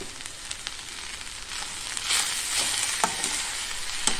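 Patri, a wild monsoon leafy vegetable, being stirred in a hot pan, with steady frying sizzle and scraping stir strokes that grow a little louder toward the end, no voices.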